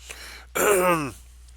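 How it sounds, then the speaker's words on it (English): A single throat clearing, close and fairly loud, a short raspy rumble about half a second long, with quiet background before and after. "The hoopla was interrupted by the general clearing his throat."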